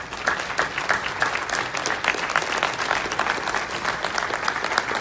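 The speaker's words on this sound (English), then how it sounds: "Let's give our candidates another round of applause." Audience applause for the candidates at a San Bernardino city mayoral forum, a steady crowd of many hands clapping evenly throughout, moderately distant with no voices over it.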